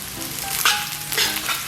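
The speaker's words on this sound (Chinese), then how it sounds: "咱们把切好的蒜片和葱末给它下里边" Sliced garlic and chopped scallions hit hot oil in a wok that already holds ginger, giving a bright sizzle with a couple of stirring scrapes and crackling bursts.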